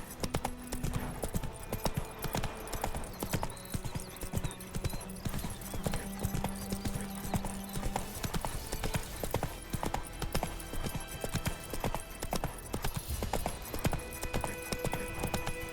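Roach, the horse in The Witcher 3, clip-clops along steadily on hooves for the whole stretch, a continuous rhythmic patter under game ambience with a brief whinny.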